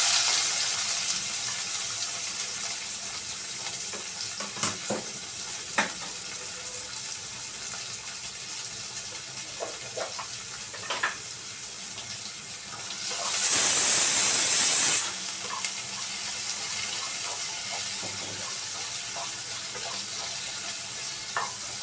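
Onion pieces frying in a pan for capsicum curry give a steady, soft hiss that runs through the whole stretch, with scattered faint clicks and a louder, brighter burst of sizzle partway through.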